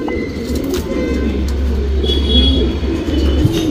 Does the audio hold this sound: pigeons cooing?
yes